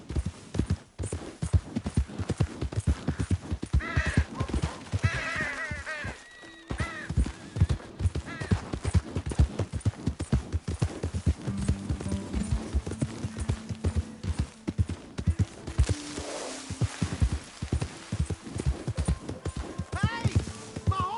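Horse hooves clip-clop at a steady trotting rhythm in the Red Dead Redemption 2 video game, close and continuous over game music and ambience, with a brief whinny and some character voices heard along the way.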